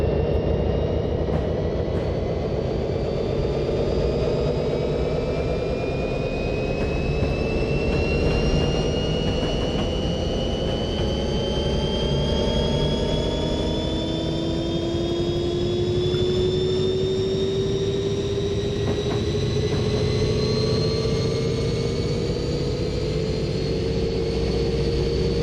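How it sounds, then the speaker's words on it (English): An Amtrak F40PH diesel locomotive engine drones loudly and continuously, its pitch climbing slowly from idle toward full throttle over a long, steady run. "Gonna do a full rev up. From idling to full throttle."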